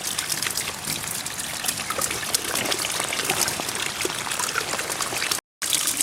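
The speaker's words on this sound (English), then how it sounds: "we've got another block grid and the water's just going to overflow and have nowhere to go" Rainwater streaming and trickling steadily through a clogged drain grid during a storm, a continuous close splashing flow with a brief dropout near the end.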